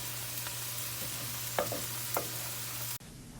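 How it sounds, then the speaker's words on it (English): A vegetable stir fry cooks in a clay pot, giving a faint, steady sizzle over a low hum, with a few soft clinks and stirring scrapes before it cuts off abruptly. "I am using clay pot to cook these stir fries."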